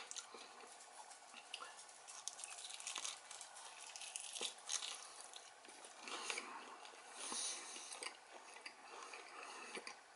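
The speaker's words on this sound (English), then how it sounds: "Hear the crunch?" Close, quiet crunching and crackling of crispy baked chicken skin being chewed, irregular bites with soft mouth noises and faint murmuring.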